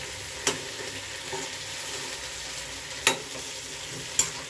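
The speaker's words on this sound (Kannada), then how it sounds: "ಈ ಎಣ್ಣೆಲೇ ಬೇಯಬೇಕು ಆಯಿತಾ." Eggplant frying in hot oil gives a steady, close sizzle, broken by three sharp stirring clinks against the pan.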